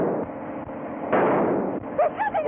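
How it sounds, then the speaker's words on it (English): Gunfire during a car chase in a 1933 black-and-white film, a loud broadband burst of shots lasting about half a second midway, with muffled voices and engine rumble before and after. "They're shooting at us."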